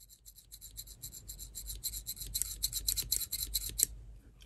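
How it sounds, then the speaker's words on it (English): Slot car hand controller wiper rubbing against its wiper board, a dry rasping scrape repeated in quick regular strokes, close and fairly loud, with no talking. "I can still hear it rubbing against the board."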